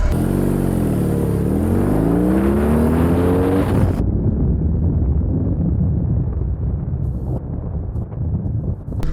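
A 2021 BMW R18 First Edition motorcycle accelerates hard in a pull test, its engine note rising steadily through the revs for about four seconds. After a sharp cut, loud wind rush and road roar carry on alone.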